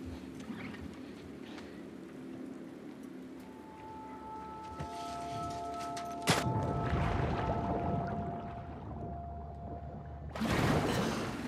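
A boat engine restarting in the video game The Last of Us Part II, a low droning hum under wind and water wash, with sharp bursts of noise near the middle and again toward the end.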